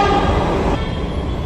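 A metro train passing close by, a steady loud rumble of wheels and carriage noise that swells and then eases slightly over a second and a half, with no voices.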